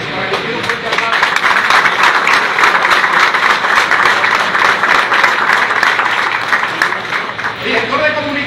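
Crowd at a political party gathering in Higüey breaking into strong applause, a loud, sustained burst of clapping with talk and voices mixed in throughout.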